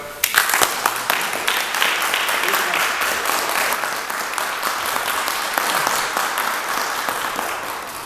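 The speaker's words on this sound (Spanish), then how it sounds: "creo que merecen aplausos" Audience applause at a cultural talk about a history of Batlle and Rodó, a loud, dense wash of clapping that starts sharply and holds steady for about eight seconds, with a faint voice mixed in.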